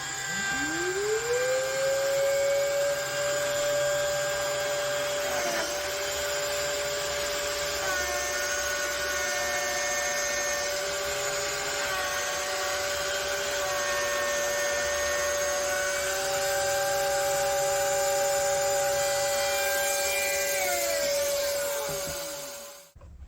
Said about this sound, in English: Go ahead and pop the dust extractor onto the machine